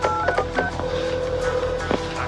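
A telephone is dialed in a 1989 horror film. Several quick keypad tones beep in succession, then a longer steady tone sounds, with faint background noise.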